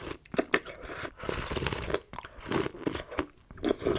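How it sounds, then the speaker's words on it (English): Cartoon bees slurp nectar with wet, crunchy slurping and smacking sounds in irregular bursts, close and fairly loud. "The bees are slurping and extending these long tongue things out to collect nectar."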